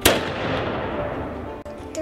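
A historic fort cannon fires one sharp, loud blast that rolls into a long, rumbling echo.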